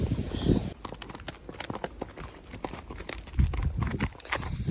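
Horse hooves walking on a bridle path while out hacking, irregular close clip-clop footfalls in a loose rhythm, mixed with rustling and crinkling sounds nearby.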